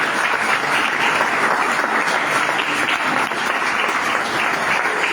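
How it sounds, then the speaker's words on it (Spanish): Congregation at a church service breaking into sustained applause, a dense, even wash of many hands clapping that fills the space without pause. "Veo que ese aplauso y gratitud al Señor."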